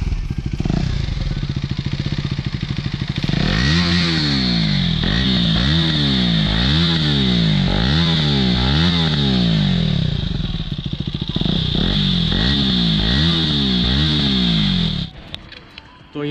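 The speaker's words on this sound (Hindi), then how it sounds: "ये जो एग्जॉस है, इसका साउंड आप लोगों को सुना देता हूँ" A KTM Duke 250 motorcycle with a loud, throaty aftermarket Akrapovic exhaust revs repeatedly in rising and falling bursts, close by, then settles and cuts off near the end.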